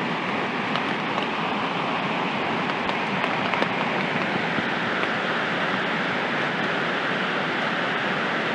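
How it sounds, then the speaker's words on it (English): Steady rain pattering on a hammock camp in the Dolly Sods Wilderness, a dense continuous hiss with scattered close drops, no voices. "Started raining around 4:30."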